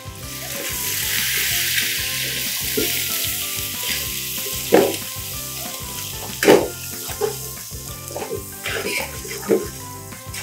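Sliced onions frying in hot oil with bay leaves and spices for mushroom biryani, a steady close sizzle throughout, with several louder stirring scrapes and clatters of a spoon against the pot.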